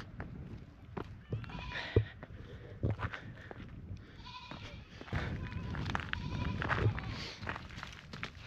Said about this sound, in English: Goats in trees, goats in trees.